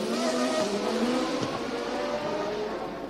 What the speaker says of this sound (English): Patrick Tambay, now moving into 4th with the Ferrari